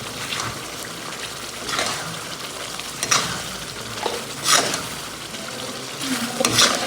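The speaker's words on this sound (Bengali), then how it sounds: "মশলাটা ভালো করে কষানো হোক।" Spice paste with coriander and cumin powder frying for chicken, a loud close sizzle broken by repeated scraping stirs of a spoon in the pan, no one talking.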